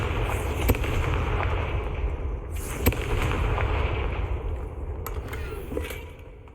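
Confringo fire-spell blasts in Hogwarts Legacy on PS5: a few sharp crackling bursts punctuate a continuous rumbling, fiery backdrop, with no talking.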